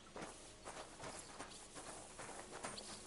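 Horse hooves clip-clopping in Kingdom Come Deliverance 2, a quiet irregular series of hoof strikes on the ground, faint and somewhat distant with a light background hiss.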